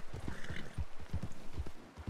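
Horse hooves clip-clopping in the Red Dead Redemption video game, a steady run of thudding beats, close and fairly loud, with no talking.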